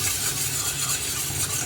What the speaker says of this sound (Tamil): லைட்டாக அந்த சில்லி பவுடரை பட்டரில் ஃப்ரை பண்ணணும்